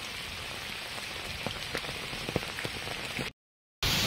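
Heavy storm rain patters on a surface, with distinct close drops tapping over a steady wash; the sound cuts out briefly near the end, then the downpour returns.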